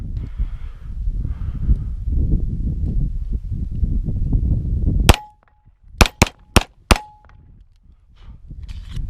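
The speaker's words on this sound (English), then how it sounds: "A couple more shots here. See if you can fire them off here." Five sharp, loud pistol shots from an FN 509 LS Edge, the first alone and four more following in quick succession, each ringing briefly after a stretch of rumbling background noise.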